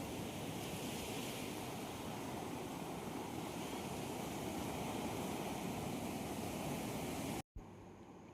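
Sea waves washing onto a beach in Kannur at dusk, a steady loud broadband roar of surf with wind noise throughout, cut briefly near the end, with no voices.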